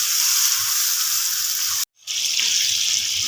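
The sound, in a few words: tomatoes and chillies frying in a pot for aloo pulao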